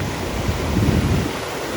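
A waterfall on a Canadian road trip, used as a makeshift shower, pours with a steady close roar of rushing water, deep and continuous, with no voices.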